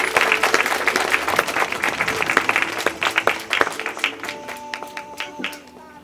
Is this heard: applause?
yes